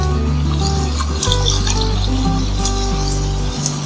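Water pours in a steady, loud stream into a metal cooking pot, the tone shifting as it fills, with no voices.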